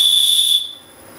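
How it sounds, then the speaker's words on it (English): A loud, shrill emergency whistle built into the handle of a Tool Logic SL7 folding knife blows as one steady high tone for about half a second, then cuts off into a faint hiss. "On the handle of the knife is an emergency whistle."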